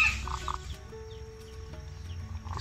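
A hen at a poultry farm on a cold night gives a soft snoring-like rattle with short clucking notes, faint and close against a low steady background hum.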